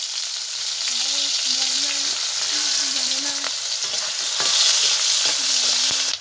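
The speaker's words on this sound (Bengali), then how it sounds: "তারপর আমি পেঁয়াজ কেটে দিয়ে দিই।" Chopped onions fry in hot oil in a kadai, giving a continuous close, bright sizzle with faint scraping and stirring sounds and a few tones running underneath.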